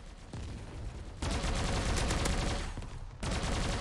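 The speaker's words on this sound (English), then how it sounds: "someone's shooting at me" Rapid bursts of gunfire from the robot combat video game Bot Machines, dense automatic fire rolling continuously with louder stretches and brief lulls, loud and close, with no voice over it.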